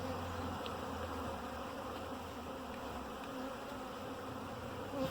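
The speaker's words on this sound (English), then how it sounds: "they will get to her, they will start attending her, which they're already doing now" Honey bees crawling over hive comb as they begin attending a newly installed queen give off a steady, close, continuous buzzing hum throughout.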